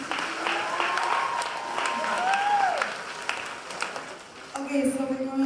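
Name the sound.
audience applause at student leadership conference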